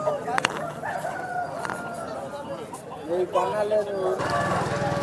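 Rooster crowing at a Sunday rooster market in Vijayawada, a few short crows and clucks amid birds, mid-distance, beneath nearby talking and market background noise.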